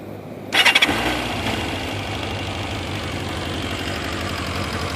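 A 2000 Kawasaki ZR-7 motorcycle engine, already warmed up, cranks and catches, then settles into a steady, loud idle with a faint rhythmic tapping running underneath.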